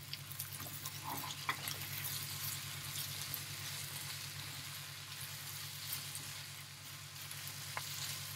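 Tomato quarters sautéing in a hot pan for Persian macaroni, a steady soft sizzle and frying crackle throughout with a few faint stirring scrapes, fairly quiet and with no voices.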